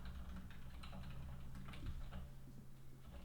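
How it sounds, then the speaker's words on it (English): Quick clicking keystrokes on a computer keyboard, faint and close, in an irregular typing rhythm over a quiet room hum for a few seconds. "What are you typing over there?"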